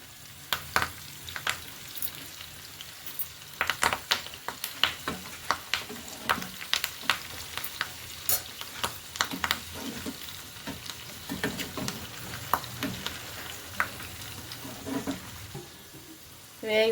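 Chicken pakodi frying in oil with green chillies and curry leaves, a soft bubbling sizzle punctuated by frequent sharp crackles and spatters.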